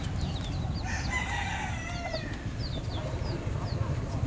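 Fighting roosters at a chicken farm crow repeatedly, several calls overlapping at mid distance over a steady low background hum, with scattered short clucks between.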